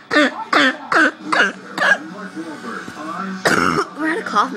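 A person coughs repeatedly in close, loud bursts mixed with throat clearing, and a voice is heard between the coughs.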